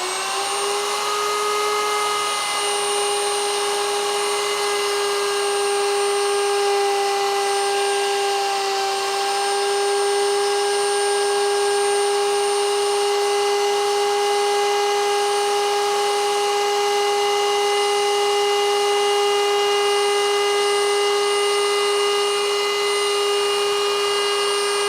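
A power tool cutting steadily along a marked line, heard as a loud, continuous whining drone with a fixed pitch that holds throughout, with no talk.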